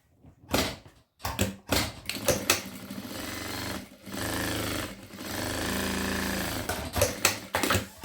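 A sewing machine runs in short bursts, then a longer steady stretch of rapid mechanical stitching over zipper seams, close and fairly loud, with brief pauses between runs.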